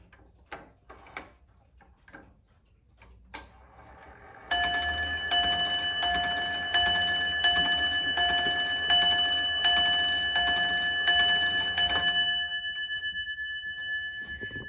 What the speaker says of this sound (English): So let's see what it sounds like when the bell goes off.